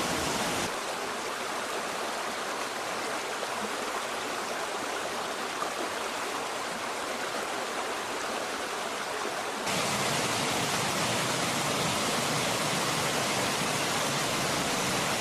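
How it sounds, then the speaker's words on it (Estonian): Water pours over stepped Middle Ordovician limestone ledges of a roughly 10-metre-high waterfall on a stream in Lahemaa, Estonia, a steady broadband roar with no pauses that grows fuller and louder partway through. "Nende 3 ja vahepealsete väiksemate astangutega langeb vesi 10 meetriga"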